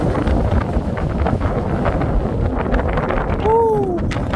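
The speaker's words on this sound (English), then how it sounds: "Oh, it's very windy when you get up here." Strong wind on a fell summit, Bonscale Pike in the Far Eastern Fells of the Lake District, buffets the microphone as a loud, steady roar with gusty rumble throughout.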